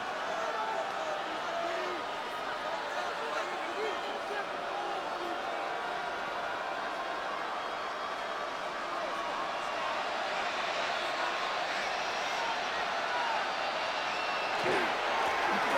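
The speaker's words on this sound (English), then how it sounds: "they're going to hear it from this crowd" Steady stadium crowd roar from a Madden 26 football game, Washington Commanders at Minnesota Vikings, a continuous broad wash of distant fans sustained throughout with no clear peaks.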